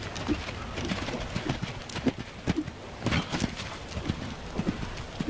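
A horse canters toward a fence and lands over it, hooves clip-clopping in an irregular rhythm, close and moderately loud, with faint bird calls in the background.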